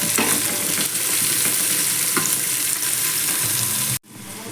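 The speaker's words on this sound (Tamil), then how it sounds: "இப்போ இதை நல்லா வதக்கி விட்டுருங்க." Carrots, beans and onions sautéing in oil for vegetable biryani, a loud, steady sizzle with stirring scrapes throughout, cut off abruptly near the end with only a faint hiss after, no voices.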